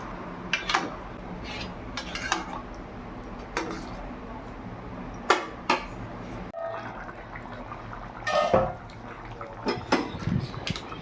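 A lid clinks onto a cooking pot of simmering chicken chana masala with potatoes, boiled chickpeas and added water, giving a few sharp metallic knocks and scrapes over a soft kitchen background.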